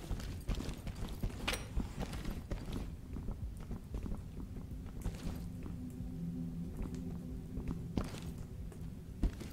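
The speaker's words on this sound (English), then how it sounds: "I got footsteps on the left." Muffled footsteps thud in an uneven rhythm in the tactical shooter Ready or Not, mixed with faint clunks and shuffling gear sounds, quiet and somewhat distant throughout.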